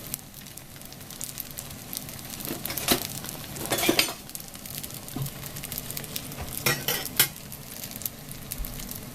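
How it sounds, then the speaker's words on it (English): European pancakes frying in a pan on a stove, a continuous low sizzle broken by spatula scrapes and clinks of utensils against the pan and plate, no talking. "Fry them on both sides?"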